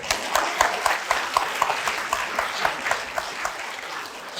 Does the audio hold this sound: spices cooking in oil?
no